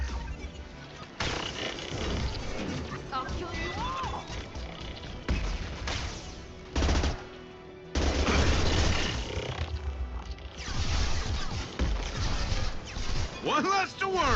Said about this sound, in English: Right, taking heavy fire.